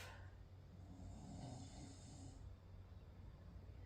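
Soft, quiet snoring: a single slow drawn-in breath with a raspy hiss, then fading low rumble, faint and alone.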